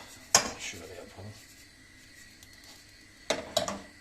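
A metal spoon stirs a cup of sugar melting in a pot, scraping and clinking sharply against the pan in two brief bursts separated by a quiet stretch.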